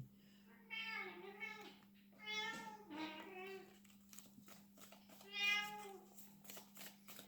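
A cat lets out several drawn-out, wavering meows at close range, separated by pauses, over a faint steady hum.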